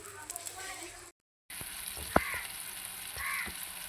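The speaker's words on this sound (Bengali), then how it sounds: "আর এই যে আমি ডিম ভেজে নিতেছি।" Eggs frying in a pan give a soft, steady sizzle at low volume, cut by a brief silence and a sharp clink, with faint voices in the background.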